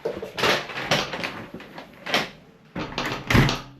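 A uPVC front door is opened and shut several times during an adjustment test, with sharp knocking clunks and rattles of the frame at close range and brief pauses between them.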